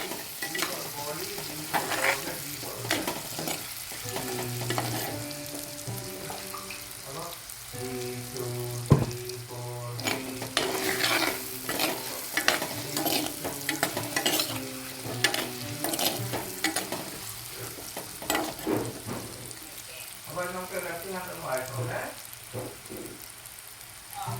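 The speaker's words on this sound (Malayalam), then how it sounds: "ഈ മുട്ടയുണ്ടല്ലോ അത് നമ്മൾ അതിനകത്ത് ഇട്ട് ഒന്ന് വഴറ്റിയെടുക്കാം അതായത് ഒന്ന് ഫ്രൈ ചെയ്തെടുക്കുക" Eggs sauté in a hot pan for an egg curry, giving a steady, close sizzle throughout with frequent scraping and stirring clatter. No one speaks.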